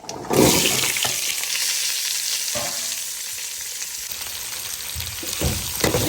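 Chopped vegetables and curry leaves sautéing in a hot pan, a loud sustained frying sizzle that runs throughout, broken by a few scraping stirs of a spoon against the pan near the start and end, no speech.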